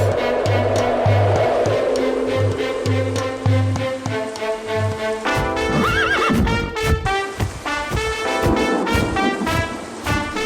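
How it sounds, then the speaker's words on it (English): A cartoon white unicorn horse lets out a loud, drawn-out neigh and whinny, then galloping hooves clip-clop rapidly in a steady rhythm, close and alone with no talk. "Suddenly, a white unicorn horse comes flying to save Brownie, picks Brownie up from the river and flies i"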